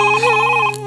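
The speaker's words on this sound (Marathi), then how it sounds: "फोन येतोय, कोणाकडनं तरी बोलतोय" A telephone rings close by with a short, clear electronic trill, a bright tonal ringtone lasting about a second, heard alone on a comedy stage.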